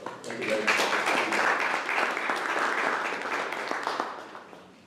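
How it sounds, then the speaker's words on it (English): An audience applauds the jury at an academic thesis prize ceremony, a dense, steady wash of many hands clapping that holds for several seconds before tailing off. "So please, an applause to them as well."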